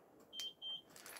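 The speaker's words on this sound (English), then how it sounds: "2 beeps, and obviously that is it all turned off." A Lunar Clubman caravan alarm gives two short, clear electronic beeps in quick succession as it is switched off, fairly quiet against a faint background.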